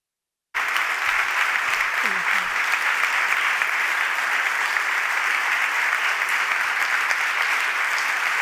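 A large award-ceremony audience applauds a design award winner with sustained, dense clapping that starts abruptly and holds steady, loud and close, throughout.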